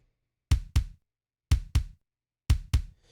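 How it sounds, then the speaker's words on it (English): ZC Punch kick drum sample hits in three pairs of punchy, booming thumps with quick decay, evenly spaced about a second apart, loud and isolated against silence. "I preferred this ZC Punch kick here."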